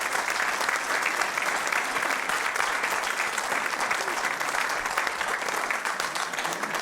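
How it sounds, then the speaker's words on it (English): An audience gives a big, steady round of applause at a live gospel music performance, many hands clapping continuously and loudly for several seconds without pause. "We want you to give him a big round of applause"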